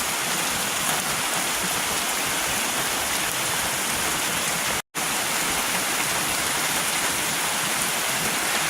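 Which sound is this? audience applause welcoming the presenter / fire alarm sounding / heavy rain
heavy rain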